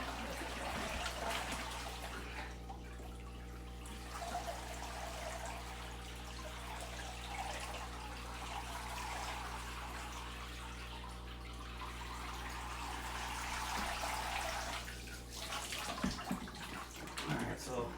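Water is drained from a home aquarium holding catfish and peacock bass, rushing and gurgling steadily for many seconds over a constant low electrical hum, with brief louder splashes near the end.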